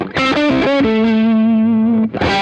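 High-gain blues-rock electric guitar on the neck pickup with the volume rolled off, playing a sustained, distorted lead phrase: a few quick notes, then one long held bend, a short gap and a fresh attack, loud and close.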